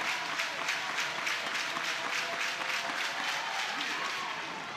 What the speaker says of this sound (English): The Sooners crowd getting behind Sam Landry.